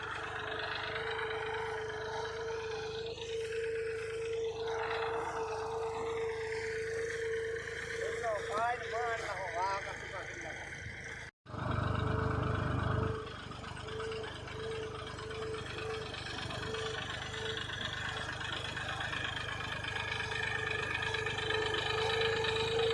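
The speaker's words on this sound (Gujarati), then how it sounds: "તો આવી રીતના હાલે છે ટ્રેક્ટર" A farm tractor engine runs steadily while a fence is built on the farm, a continuous low drone with rattling. A brief gap falls near the middle before the engine resumes. People talk over it.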